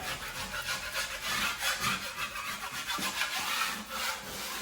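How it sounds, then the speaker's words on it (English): A scraper run over a drywall crack to knock off rough edges, making steady close scratching and rasping strokes in a continuous rhythm. "So the first thing I'm going to do is I'm going to scrape."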